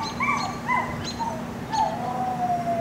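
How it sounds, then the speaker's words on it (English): A dog whimpers in a yard, a series of high, sliding whines and short yelps, close and fairly loud, ending in one long falling whine over steady outdoor background noise. "He's such a good dog"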